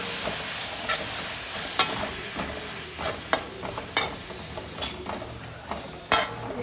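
Spinach sizzles in a pan in a home kitchen, a continuous frying hiss broken by sharp, regular scrapes and taps of a spoon stirring against the pan, close and clear.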